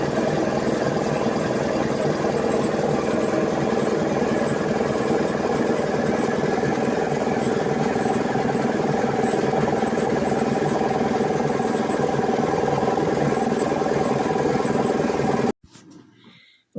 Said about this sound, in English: I bought my compressor, which is an old British compressor, a Broomwade AC10